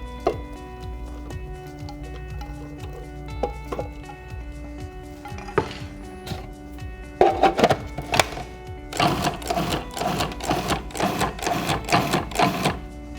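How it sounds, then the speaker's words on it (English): Mushrooms being pulsed in a food processor for homemade veggie burgers: a low motor hum with a few scattered blade taps at first, then denser bursts of rapid chopping that build into a steady, loud whir near the end. "let's go ahead and get them pulsed like we did the broccoli and the black beans"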